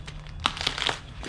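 Plastic packaging for a 2JZ manual transmission and clutch setup being cut open with a makeshift cutting tool, giving several short crinkling, crackling bursts close up with no talking.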